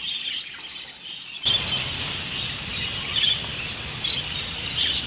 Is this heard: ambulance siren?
no